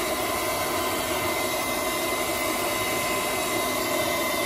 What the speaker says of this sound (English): So again, hit it with your hair dryer.